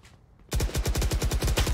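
Rapid automatic gunfire in the video game Valorant bursts in after a quiet half second and rattles on loud and continuous in a fast repeating rhythm.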